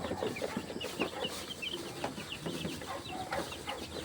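Chickens in a poultry house cluck and chatter continuously, many birds at once filling the space with overlapping close and distant calls, steady and moderately loud.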